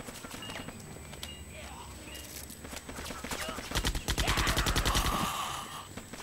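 Gunfire in the ShellShock 2 video game rattles in a fast, loud burst of repeated shots near the end, following quieter game ambience with scattered thumps and someone speaking.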